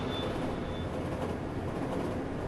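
A metro train rolling along the tracks in the Hmmsim Metro simulator, a steady low rumble and rattle of wheels on rails, continuous and close, with no talk.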